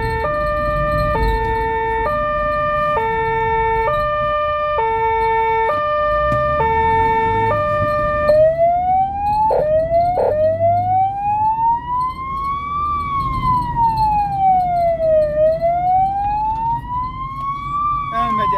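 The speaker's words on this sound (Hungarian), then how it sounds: "A cicergés még mindig tart." A Hungarian ambulance siren sounds loudly from the vehicle itself, first in a two-tone alternating pattern, then switching to long rising and falling wails over steady road and engine noise in traffic.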